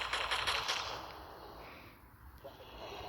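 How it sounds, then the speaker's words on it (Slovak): Rapid pistol fire from an armed policeman in a video game, a dense burst of sharp cracks in the first second that fades into a noisy wash of game sound. "On sa nedá zabiť, on má malú pištoľ a po vás strieľa."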